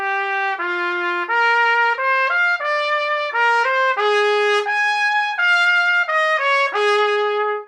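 A trumpet with a YS bell plays a short run of clear sustained notes close up, with pitch steps and brief breaks between phrases, alone and loud.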